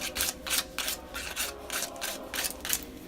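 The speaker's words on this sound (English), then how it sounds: "A little bit of sandpaper, nothing too much, because you don't want to polish them up. Just take some of the sharp edges off." Sandpaper rubbed in quick back-and-forth strokes over the sharp edges of a small slate biscuit for a wine bottle holder, close and rhythmic rasping with about eight strokes and no talking.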